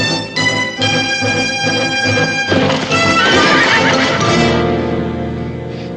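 A horse whinnies loudly and at length up close, its high neighing call rising and then fading, with a few hoof clops mixed under a dramatic music score.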